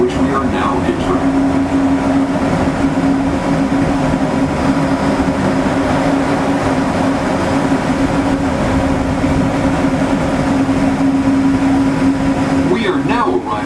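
Disneyland monorail gliding into Downtown Disney Station, a continuous loud rolling hum with a steady mechanical tone, while an onboard announcement voice talks over it.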